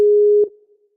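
A call ringing tone sounds while a participant is added to a call: a single steady electronic beep lasting under half a second, then cutting off with a faint fading tail.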